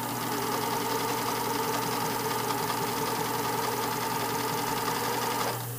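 A sewing machine stitches elastic onto a panty, a close, even, rapid mechanical whir that runs steadily and cuts off just before the end.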